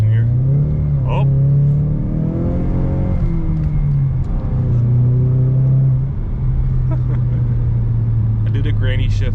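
Ford Mustang EcoBoost with a 6-speed manual accelerating hard, the engine note climbing through revs with shifts between rising sweeps, loud and close from inside the car.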